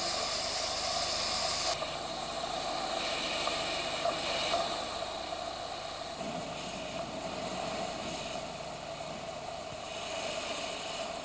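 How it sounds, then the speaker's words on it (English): A steam locomotive hisses steadily in the shed while raising steam, a continuous breathy roar with a low hum beneath and faint clanks, heard from nearby with no voices. "When sufficient steam has been raised, the locomotives are moved outside for final cleaning and preparation."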